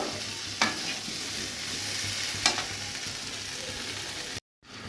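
Spices sizzle steadily as they are sautéed and stirred in a pan for a sweet potato dish, with a couple of sharper scrapes of the spoon over the continuous frying hiss before it cuts out abruptly near the end.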